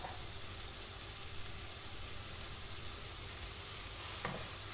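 Onions with a teaspoon of salt softening in a pan, giving a steady, quiet sizzle with faint stirring scrapes, with no voices.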